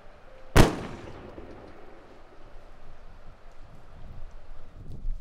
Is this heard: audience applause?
no